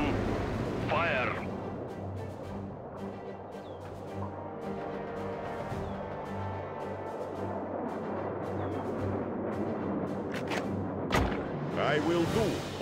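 Cannon fire from a World War II battle in the strategy game World War Armies, with deep booming blasts and rumbling impacts under ongoing voice chatter and game noise.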